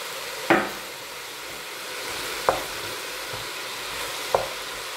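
Butter frying in a pot with sliced onions and garlic for onion soup, a steady soft sizzle with a few sharp stirring knocks of a utensil against the pot, close and moderately quiet.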